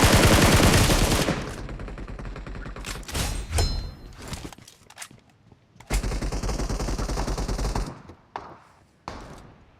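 Gunfire from the mobile game BGMI, including sniper shots, comes as loud, close bursts of rapid shots separated by short quieter gaps.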